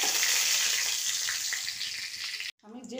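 Whole spices (dried red chillies, cinnamon, green and black cardamom, cloves, cumin and bay leaves) sizzle loudly in hot mustard oil alongside browned onions for Kashmiri mutton rogan josh, a continuous close frying hiss that cuts off abruptly near the end.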